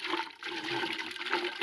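Water is poured over shoes being washed after repair, giving a steady, fairly quiet rushing splash that runs throughout without speech.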